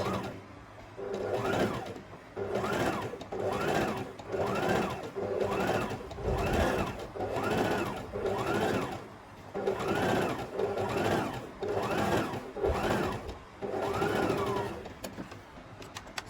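A sewing machine runs a regular straight stitch along a skirt waistline, whirring in repeated rhythmic pulses with brief pauses, close and fairly loud throughout.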